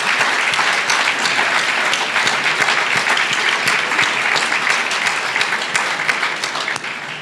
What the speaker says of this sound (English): Let's give one more round of applause for all of tonight's award recipients.